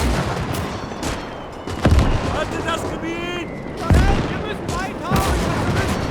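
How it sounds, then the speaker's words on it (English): Rapid bursts of rifle and machine-gun fire from scouts in the WW2 game Gates of Hell, Eastern Front, with several sharp cracks and echoing booms at mid distance, a continuous battle rumble underneath. "they're shooting at someone and they're taking a lot of shots"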